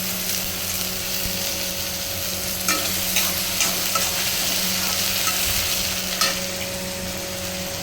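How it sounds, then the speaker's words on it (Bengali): Onions browning in a hot pan give off a steady, close sizzle and crackle that runs throughout, with a few faint stirring clicks and no talking. "এখানে পেঁয়াজটা লাল হয়ে গেছে দেখো আমার পেঁয়াজটা লাল হয়ে এসছে"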